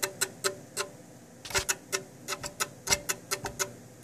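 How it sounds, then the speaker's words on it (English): The fan of a faulty GTX 980 graphics card catching on something, giving a steady series of sharp, fairly quiet clicks at an uneven, ticking rhythm with no talking. "You can kind of hear it's like a clicking sound."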